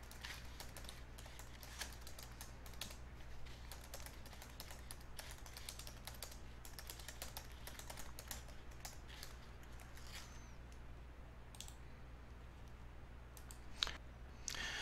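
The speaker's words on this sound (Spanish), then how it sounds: "vamos a teclear la fecha en que se realizó la actividad, el número de horas que nos llevó a realizar la actividad" Steady computer keyboard typing, a dense run of light key clicks with occasional louder taps, heard close up at low level over a faint constant hum while hours and activity details are entered into a report form.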